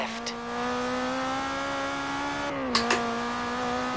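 A Mitsubishi Lancer engine in Forza Horizon 3 holds a steady, buzzing rev that climbs slowly and dips briefly as it shifts, with a couple of short clicks over it.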